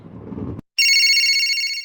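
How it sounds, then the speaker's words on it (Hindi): A low rumble cuts off, then after a short silence an electronic phone ringtone starts, steady, bright and fairly loud, continuing to the end. "अरे फिर फोन आ रहा।"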